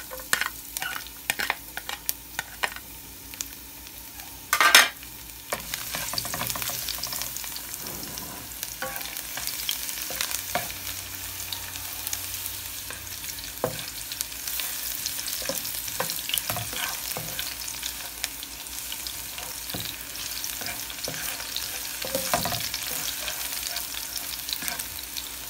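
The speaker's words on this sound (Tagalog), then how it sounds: "Kapulahin lang natin ng konti ay yung ating bawang." Garlic fries in a little oil in a pan for chicken or pork adobo, a steady close sizzle running throughout, with a sharp clatter early on and occasional utensil scrapes.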